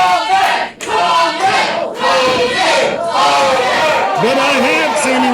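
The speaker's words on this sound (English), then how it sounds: "UWO crowd fully behind their champion." A wrestling crowd at an independent house show cheers and chants loudly and continuously for their champion, a dense roar of voices close up with a commentator speaking over it.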